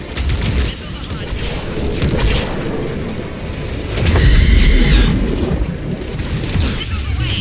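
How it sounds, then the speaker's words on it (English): Missile fire rumbles through a Mass Effect 3 battle on Thessia, with loud, continuous booming and blasts that swell midway and stay close and heavy, along with faint whooshing streaks. "Missiles are hot."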